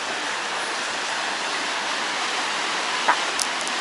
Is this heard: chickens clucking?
no